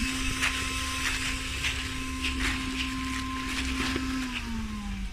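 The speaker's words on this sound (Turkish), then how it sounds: "Süpürge." A pool vacuum cleaner runs with a steady motorized whirring hum, a sustained tone that drops slightly near the end, running continuously without voices.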